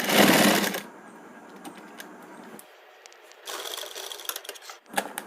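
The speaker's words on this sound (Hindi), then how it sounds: "यहाँ इस तरह से रख के यहाँ हम एक चाप सिलाई लगाएंगे।" A sewing machine stitches petticoat fabric in short runs, a rapid mechanical whirring burst at the start and another later, with quiet pauses and a few small clicks between them.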